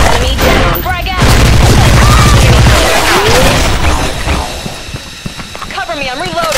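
A grenade goes off in Special Force 2 as a loud, rumbling blast with rolling debris and crashing noise, set against continuous battle sounds and scattered gunfire, with radio-style game voices at the edges.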